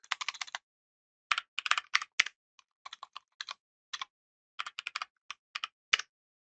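Code being typed on a computer keyboard: close, quiet clusters of rapid keystrokes in irregular bursts with short pauses between, and no talking.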